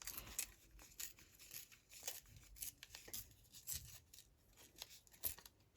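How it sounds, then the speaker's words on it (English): Paper torn by hand for a collage, with soft ripping and crinkling in irregular bursts, close but quiet and without any talking. "I'm going to tear this here."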